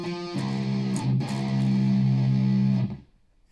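A distorted electric guitar plays a riff with a couple of sharp attacks followed by a thick, sustained low chord that rings loudly and then cuts off.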